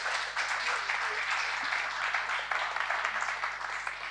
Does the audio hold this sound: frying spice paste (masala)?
no